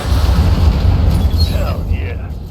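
A heavy explosion in the mech combat game BattleTech rumbles as a deep, sustained boom with crackling debris, loud and close, mixed with game sounds and a voice speaking over it.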